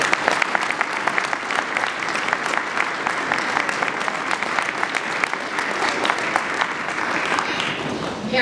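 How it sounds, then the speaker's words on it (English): A school concert audience gives its music directors a round of applause, sustained dense clapping at moderate level that fills about eight seconds without speech. "let's give them another round of applause"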